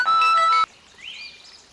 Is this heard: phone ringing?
yes